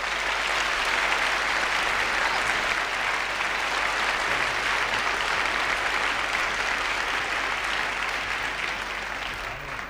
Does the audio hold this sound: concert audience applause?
yes